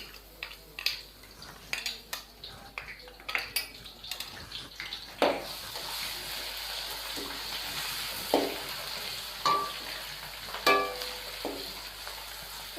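Ginger garlic paste fries in a pan for Sindhi biryani, a steady close sizzle broken by repeated clinks and scrapes of a spoon stirring against metal.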